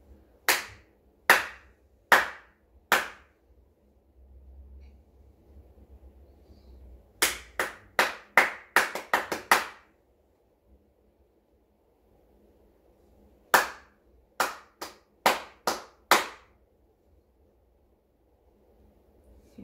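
Hands clap out a rhythm in a primary school music lesson: four sharp, evenly spaced claps, a pause, a quicker run of about eight, another pause, then about six more, close and crisp with near silence between groups.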